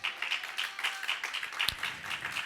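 Church congregation clapping along steadily, a dense patter of many hands in a continuous rhythmic burst, fairly close and even in loudness throughout.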